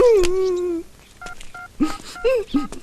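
Mobile phone keypad dialing tones sound as a few short paired beeps near the middle, following a voice's drawn-out wail at the start, with brief voiced exclamations scattered between and after the beeps.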